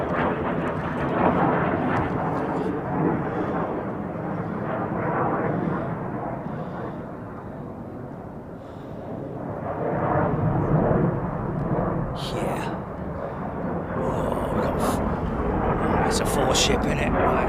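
F-35 fighter jets fly overhead, their deep rumbling roar swelling and easing, with people talking loosely underneath.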